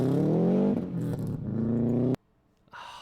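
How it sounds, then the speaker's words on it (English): A Subaru rally car at the Sunraysia Safari Rally in Australia revs hard, its engine note climbing and falling loudly, then cuts off abruptly before a quieter second burst of engine sound. "That thing sounds good. I love the sound of Subarus, man."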